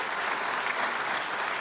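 Members of the French National Assembly applaud in a short, dense, steady burst of clapping filling the chamber.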